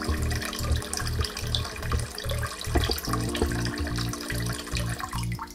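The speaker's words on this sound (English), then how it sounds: "So we're gonna get this all filled up" Water pours steadily into an aquarium sump, a continuous splashing and gurgling that fills the whole stretch and stays fairly loud. A faint low hum runs under the flow.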